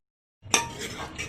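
After a moment of silence, a metal spoon clinks and scrapes against a pan while blended masala puree is stirred, starting with a sharp knock and followed by softer scraping and rattling.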